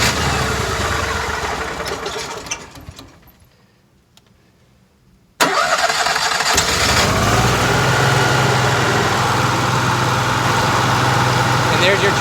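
An RV generator on a 2016 Forest River Georgetown 364 TS motorhome cranks and catches, then runs steadily with a loud, even engine drone after a brief quieter spell.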